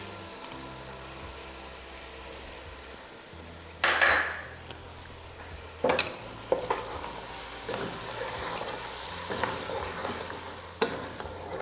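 Beef pulao masala with tomatoes and yogurt fries in a pot, a soft steady sizzle broken by a few louder scrapes and clanks of a spoon stirring, close and fairly quiet, with no talking.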